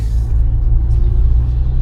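A BMW M5's V10 engine drones loudly and steadily with deep rumbling low end and an airy, hollow whir, running close by without any talking.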